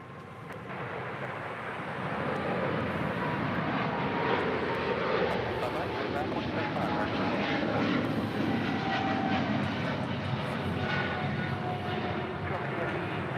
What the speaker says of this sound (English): Japan Airlines 777-300ER, take it off.